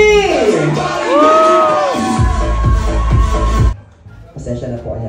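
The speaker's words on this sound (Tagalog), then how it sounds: "Ang technology po ay tinatawag na palakpakan. May kasamang sigawan." Audience at a Q&A contest event whooping, shouting and clapping loudly for candidate number 3, with a dense burst of cheering that cuts off abruptly near the end, leaving a quieter murmur.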